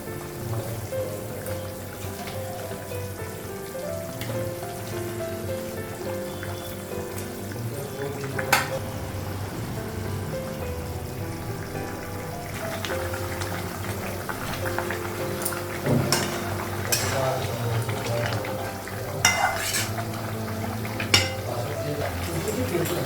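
Fried fish goes into a pan of curry and is stirred, giving a continuous crackling sizzle with occasional scrapes and clinks of a utensil in a home kitchen.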